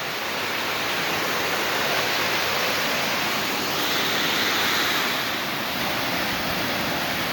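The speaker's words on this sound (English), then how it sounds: "here we are at the top of Sidewinder Falls" The waterfall at the top of Sidewinder Falls on Bear Creek in the Arkansas Ozarks is a loud, steady broadband rush of falling water, close and unbroken throughout with no voices.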